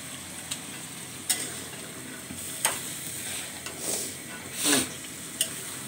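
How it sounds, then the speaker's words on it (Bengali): Bay leaves and cinnamon stir-frying in a pan for a Bengali dish, a soft steady sizzle with scattered scrapes and clicks of a spoon stirring against the pan, close and fairly quiet. "তেজপাতার দারচিনি দেওয়ার পরে এখন কষানো হচ্ছে"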